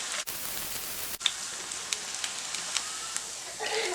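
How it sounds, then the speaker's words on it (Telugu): Onion pakodi deep-frying in hot oil gives a steady broadband sizzle with scattered pops and crackles, fairly close and continuous, with no talking. "కలుపుకుంటూ క్రిస్పీగా వచ్చేంత వరకు ఫ్రై చేసుకోవాలి."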